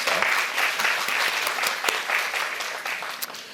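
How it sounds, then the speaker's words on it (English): At a 2024 workshop, an audience gives a dense round of applause lasting a few seconds, a close and steady clatter of many hands that thins slightly at the end. "Let's give her another round of applause."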